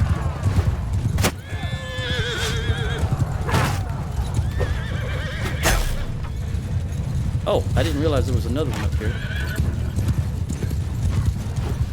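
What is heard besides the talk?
horse in a video game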